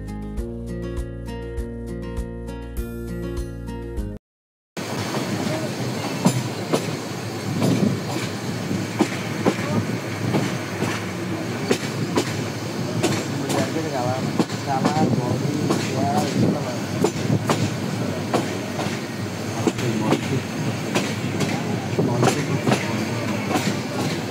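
Passenger train, the Parjotak Express running from Chittagong to Cox's Bazar, gives a steady, loud rumble with rail clatter for about twenty seconds after a short musical opening. Faint voices may sit under the noise.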